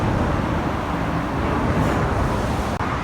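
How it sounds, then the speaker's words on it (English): Cars rolling over a noisy metal expansion joint on a Tokyo bridge, heard as a steady, loud roar of passing traffic with a brief sharp dip near the end. "This metal joint makes a hell of a noise."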